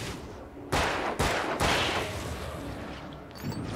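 Gunshots fired at enemies in Alan Wake: three loud, close blasts in quick succession, each followed by a lingering noisy tail, and a tense quiet backdrop afterward.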